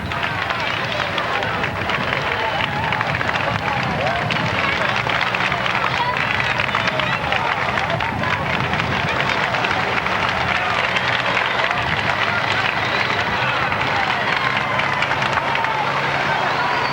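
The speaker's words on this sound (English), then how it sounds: "Sympathetic round of applause for the bunch who are well down at the moment" Roadside spectators at a 1996 Vuelta a España stage near Alicante applaud passing cyclists, a continuous wash of crowd clapping and noise, steady and fairly loud throughout with wind buffeting the microphone.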